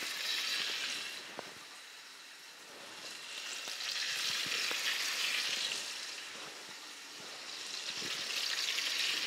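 Sea bass fillets, salted on the skin side, sizzle steadily in a hot pan, a broad continuous frying hiss that swells and eases with a few faint clicks, no voices.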